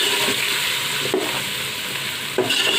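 Spices being stirred into beef nehari in a pot, a steady sizzle of frying under the scrape of a spoon, with a couple of sharper knocks against the pot.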